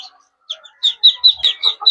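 A Muscovy duck hen gives a short series of quick, nasal clucks close by, with a brief thump partway through.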